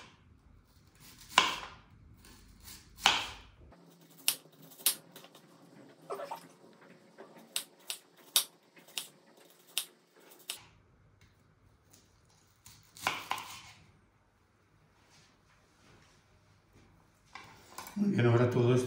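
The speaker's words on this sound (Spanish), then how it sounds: "vamos a ir cortando las cebollitas en rodajas finitas" Sharp knife strokes slice small onions into thin rings on a board for an organic salad, a quick run of crisp cuts at a steady rhythm, close and clear, with a few low thumps and soft handling noises between them.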